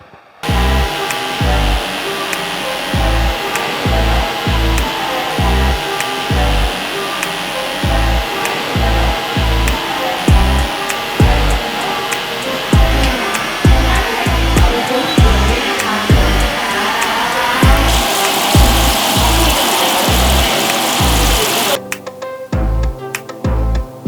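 A continuous electric buzz of hair clippers cutting a man's hair runs steadily and loudly throughout, with a pulsing low thump and a brief drop near the end.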